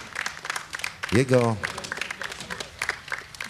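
Audience applause at a brass band festival in Kraśnik, a dense patter of clapping that carries steadily under a voice addressing the crowd, with a brief louder tonal burst partway through.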